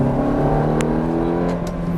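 A Ferrari F430 F1 engine drones at a constant pitch throughout while accelerating, close and continuous, with faint clicks over it; no clear rise in revs.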